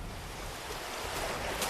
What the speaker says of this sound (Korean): 파도가 너무 세 방벽이 자꾸 무너져 내렸다.